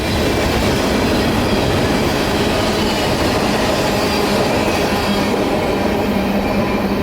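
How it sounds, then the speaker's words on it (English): A CSX local freight train of empty tank cars, empty boxcars and loaded phosphate cars rolls past at night in a city, a steady loud rumble and clatter of wheels on rails with no break, without voices. "The rest of what he has of a train are empty tanks, a couple of empty boxcars, and some phosphate loads headed north."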